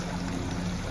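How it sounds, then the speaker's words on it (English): A steady, continuous rush of water filling a canal lock through opened paddles on the Grand Union Canal, broadband and even, with a low hum beneath it and no voices. "Open the paddles and the lock is filling"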